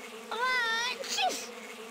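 A cartoon bee buzzes briefly in the Madagascar video game, a wavering tonal drone that rises, holds for about half a second and then trails off into a short swooping whine, fairly loud against a soft background hum.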